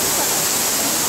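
A mountain creek rushes past a restaurant, a steady broadband wash of flowing water filling the short moment with no talk.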